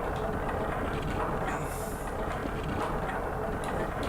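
The Black Mesa Transit train in a video game rumbles along steadily, a dense continuous rolling drone throughout with a faint higher whine midway.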